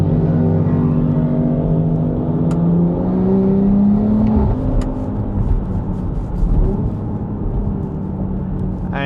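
The S58 engine of a BMW X3M fitted with an Active Autowerke exhaust, a loud, close, continuous roar climbing in pitch under acceleration, with no talking.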